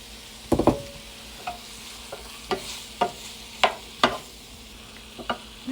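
Beef going into a hot pan for afritada, a low steady sizzle of frying meat under a series of sharp scraping and stirring knocks spaced about a second apart, close by.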